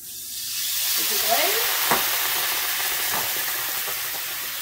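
Chardonnay poured into a hot pan after pork chops, bursting into a loud hissing sizzle that swells quickly and holds steady, with a couple of faint utensil knocks.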